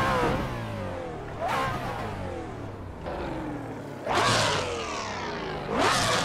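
A Koenigsegg One with roughly 1160 horsepower, driven on the Nordschleife in Assetto Corsa, revs hard through repeated upshifts, each gear climbing to a loud rising roar before a brief drop, with no voices.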